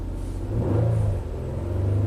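A Nissan car engine revving and held at raised RPM, a mid-pitched rumbling drone that swells briefly and then settles, heard close with no talking.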